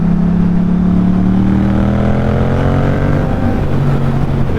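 A motorcycle engine revs loud and close as the throttle opens, its pitch sweeping upward and holding in a sustained, steady roar with no talking.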